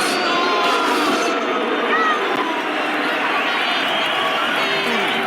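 Boxing arena crowd in the film Rocky IV as a fighter walks to the ring: a loud, continuous roar of cheering and babble, steady throughout with no clear speech on top.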